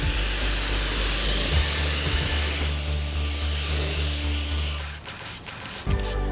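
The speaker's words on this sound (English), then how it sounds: "simply spray onto the panel evenly and hose off immediately" A steady, close hiss of silica sealant being sprayed onto a car panel runs for several seconds, then breaks into a few short bursts and pauses near the end.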